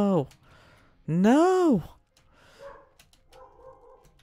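A dog whines, with a short high whimper followed by a longer rising-and-falling whine, then softer breathy whimpers and faint murmuring sounds trailing off.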